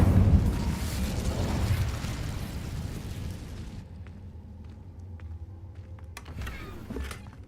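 Incendio fire spell cast in Hogwarts Legacy, a loud roaring whoosh of flame that rumbles for several seconds, then dies away to quiet ambience with a few faint clicks and taps.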